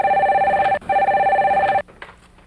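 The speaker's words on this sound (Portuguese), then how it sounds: "assim que o telefone tocar." A telephone ringing loud and close in two long, warbling electronic bursts separated by a short gap, then cut off abruptly as the receiver is lifted.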